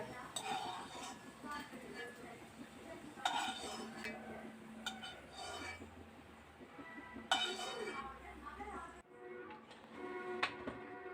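Roasted spices and garlic for pepper rice being moved into another cooking pot, with repeated metallic clinks and scrapes of utensils against the vessels in an irregular rhythm, mixed with kitchen noise and some talking.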